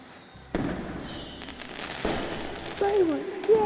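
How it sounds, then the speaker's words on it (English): Fireworks bursting in the video game Deceit 2, several sharp pops and bangs at irregular intervals with crackling and a few rising whistles near the end. "fireworks, yay!"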